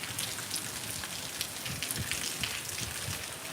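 Heavy monsoon rain pours onto surfaces outdoors, a dense, steady patter with scattered sharper drop hits throughout, close and continuous with no voices.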